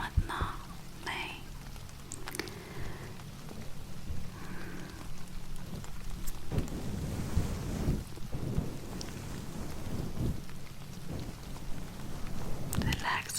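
Steady rain falls throughout during an intimate indoor roleplay, with low thunder-like rumbles swelling in the middle; someone speaks softly over the continuous patter.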